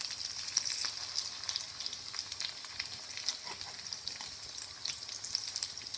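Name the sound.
rice cutlets frying in a pan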